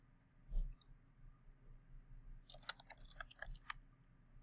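Faint, sharp mouse clicks while working in Adobe Illustrator: a single click early, then a quick cluster of small clicks toward the end, all quiet and close with no speech.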